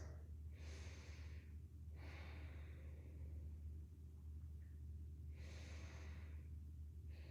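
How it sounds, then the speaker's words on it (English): Slow nasal breaths drawn in and out during a seated cross-legged forward fold in a yoga class, three soft airy swells spaced a couple of seconds apart over a steady low hum. "Breathing in and out through your nose."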